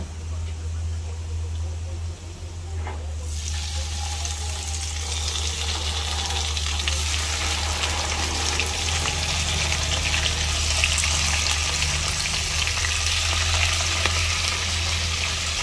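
Marinated pork belly frying with garlic in a hot pan gives a loud, continuous sizzle that swells as the meat goes in and stays steady throughout.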